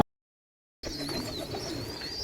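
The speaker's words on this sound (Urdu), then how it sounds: "ایک کبوتر ہے اپنے بچوں کو جو ہے وہ فیڈ کروا رہا ہے" After a brief silence, soft cooing and chirping of a pigeon feeding its chicks close by, steady and low, with faint higher squeaks above.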